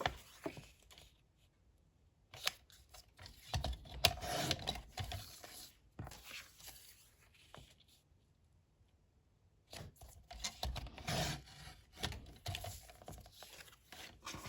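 Strips of patterned scrapbook paper cut down for a folio album, with bursts of dry slicing and rubbing from a paper trimmer, close and fairly quiet, separated by silent pauses.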